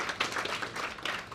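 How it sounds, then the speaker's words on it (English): Faint, brief scattered clapping from a small audience at a talk, thin and uneven, lasting just over a second. "One last applause for Adam"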